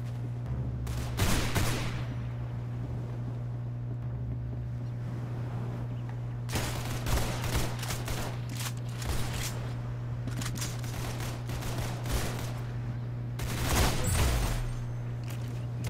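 AK-47 gunfire in a video game, several rapid bursts of shots spaced out over a constant low engine-like hum, with one early burst and a longer cluster later on.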